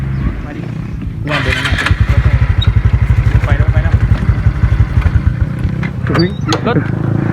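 A Honda Wave 110i motorcycle, a gearless small-displacement bike, revs up close by with a rapid pulsing engine note that rises and holds, rough and loud, with brief voices and clatter near the end.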